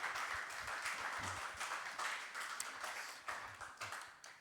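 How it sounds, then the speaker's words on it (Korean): A church youth service congregation applauds, dense overlapping clapping at moderate distance that swells and ebbs, with a few sharper individual claps toward the end. "또 우리 박수 한번 주시면"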